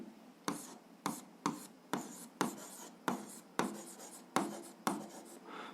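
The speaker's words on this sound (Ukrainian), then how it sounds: "Ну що ж, записуємо друга дія" Pen writing out a step of an algebra solution, heard as about ten close, rhythmic strokes and scratches in quick succession on a quiet background, with no talking.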